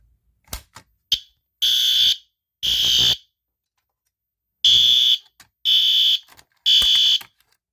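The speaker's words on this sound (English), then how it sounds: "The horn was loud." A newly installed System Sensor fire alarm horn strobe blares in five loud, separate bursts, each about half a second long, with short clicks and silences between them.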